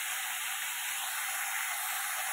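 Spinach added to a hot pan gives a steady, faint, hissing sizzle. The hiss stays even throughout and there is no talking.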